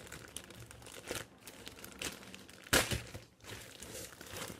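Plastic packaging and a parcel crinkle and rustle as it is opened, soft close handling noises with one sharper tearing crackle partway through and no talk.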